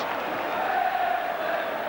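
A football crowd at Liverpool v Southampton in the FA Cup fifth round roars steadily after a Peter Beardsley goal, a broad, sustained cheer with a faint rising swell.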